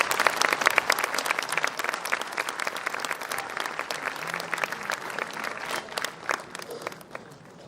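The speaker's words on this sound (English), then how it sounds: "With a big round of applause." An audience at a conversation session with actor Manoj Bajpayee breaks into a full round of applause, dense and close at first, then gradually thinning and fading toward the end.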